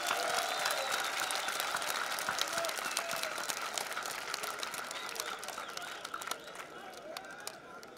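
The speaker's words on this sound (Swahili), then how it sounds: "Tuwapigie makofi mengi." An audience at a government meeting with Kariakoo traders claps steadily for several seconds, a dense, even patter of many hands that fades slightly toward the end, with faint crowd noise underneath.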